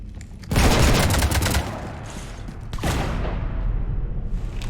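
Heavy gunfire rattles aboard a ship in Mass Effect 3, a loud dense fusillade of shots erupting in a burst, pausing briefly, then resuming in a sustained roar.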